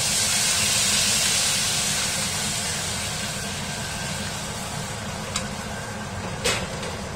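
Water poured into a hot wok of spicy, numbing chili-sauce oil, bursting into a loud hiss that slowly fades, with a couple of sharp metallic clinks near the end.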